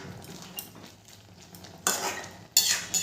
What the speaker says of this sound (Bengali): হলুদ গুঁড়োটা দিয়েও ভালো করে মিশিয়ে নেব।